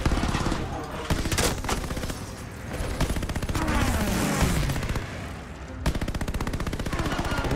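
Dense rapid gunfire from the Call of Duty Vanguard campaign during an aerial battle on PS5, continuous machine-gun bursts and shots filling the scene loudly with little pause.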